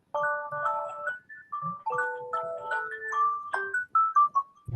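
A phone ringtone plays a melodic sequence of clear electronic tones in a rising and falling tune, fairly close and loud, during an evening talk on Yiddish idioms.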